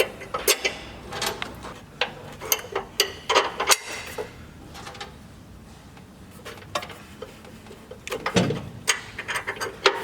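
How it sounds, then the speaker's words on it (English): A ratchet clicks in quick rapid bursts, tightening a 16 mm flat spring nut on a Rockarmor Rocksider side step fitted to a Nissan NP300 Navara. There is a flurry of ratcheting at the start, a quieter pause, then another run of clicks near the end. "so I've just got my ratchet"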